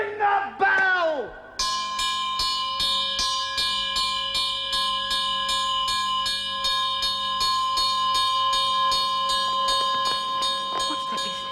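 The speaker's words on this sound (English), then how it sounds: "Ring the bell!" An alarm bell clangs in a castle in a 1978 stage production of Macbeth, striking in a fast, steady, ringing rhythm after a brief burst of shouting voices, and sustained loudly to the end.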